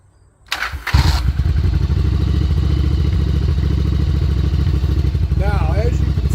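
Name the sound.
Yamaha Virago motorcycle engine starting and idling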